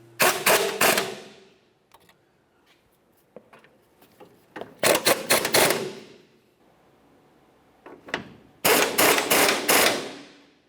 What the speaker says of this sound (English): let's continue bottoming out the rest of the bolts and then we will tighten them to manufacturer's specification.